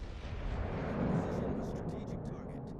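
Battleship main guns fire in World of Warships: Legends, a low distant boom rolling out over about a second, with speech faintly mixed in.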